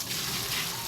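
Water rushes steadily into a drained washing machine during a leak check, a continuous close hiss and gush that fills the whole short moment.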